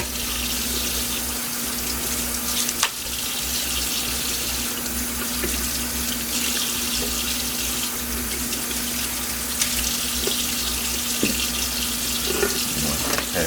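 Cold tap water runs steadily into a kitchen sink, a constant splashing hiss with a faint hum underneath and a few small clinks.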